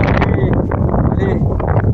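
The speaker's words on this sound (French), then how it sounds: "Et il y a un sacré coup de vent les amis, hein." Strong gusting wind buffets the microphone outdoors in a garden, a loud rumbling roar with a person talking over it.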